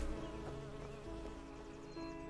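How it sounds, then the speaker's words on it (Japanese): A bee buzzing in the fantasy role-playing game Enderal: Forgotten Stories, a steady droning hum that stays close and constant with no talk over it. "うるさいうるさい、ハチ。"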